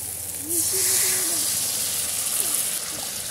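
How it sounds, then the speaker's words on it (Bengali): Water goes into a pan of hot, well-fried spice paste for a Bengali katla fish kalia, giving a steady loud hiss and sizzle close up. Faint background voices and sounds run underneath. "মশলা ভালো করে কষে নিয়েছি, এবার জল দিয়ে দেবো"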